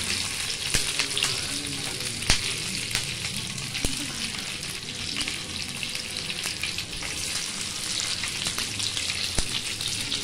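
Garlic and green chillies frying in hot oil for dhaba-style prawns 65, a loud, steady sizzle close up with sharp crackles and pops scattered through, no talking.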